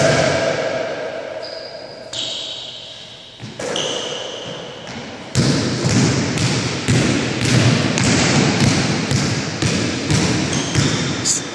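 Basketball dribbled repeatedly during a one-on-one drill, sharp rhythmic bounces on a court that turn quicker and steadier midway, with faint voices in the background.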